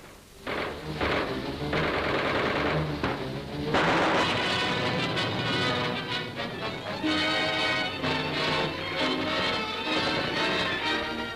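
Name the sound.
artillery fire in WWII street fighting at Eschweiler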